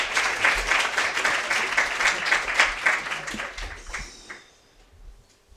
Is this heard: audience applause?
yes